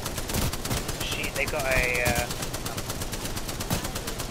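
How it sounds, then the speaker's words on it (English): Rapid bursts of automatic gunfire from a shooter video game, crackling close and steady for a few seconds, partly under a short spoken exclamation. "I am taking fire, friends. Opening fire on the enemy."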